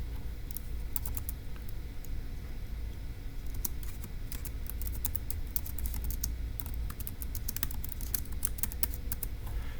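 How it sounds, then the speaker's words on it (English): Fingers typing notes on a computer keyboard during a Turing Machine puzzle session, a steady run of quick key clicks over ten seconds against a low background hum, with no speech. "let's go ahead and type that up in our notes"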